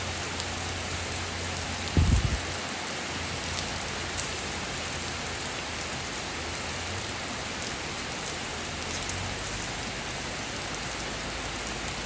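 Heavy storm rain pours steadily onto surfaces outdoors, a dense continuous hiss throughout, with one brief louder knock near the start and no talking.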